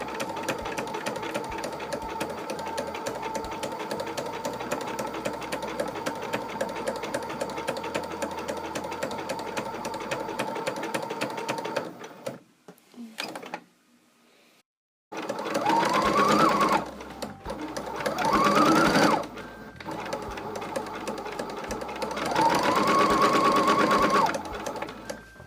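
A sewing machine stitches a fabric Valentine's heart in a long steady whir, close and even, then stops briefly and starts again in a few shorter bursts of stitching.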